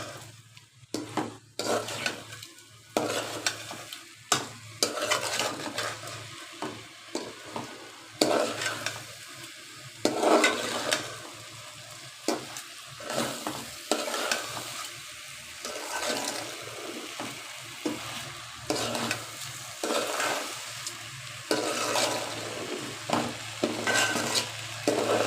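Polao rice being stirred and fried in a pan for restaurant-style bhuna khichuri, with continuous scraping, stirring strokes and a steady sizzle running throughout, close and fairly loud.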